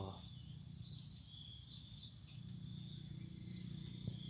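Farmed crickets chirp steadily in a cricket-rearing setup with egg-tray panels, making a continuous high trilling buzz with faint low background hum and no speech.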